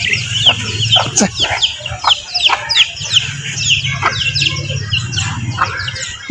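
Chickens cluck close by in a farmyard, with busy overlapping high chirps and calls running continuously over a low background murmur.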